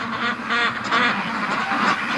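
Ducks on a free-range farm on a rainy day give off a steady stream of overlapping quacks and honks, close by and fairly loud, rising in bursts without pause.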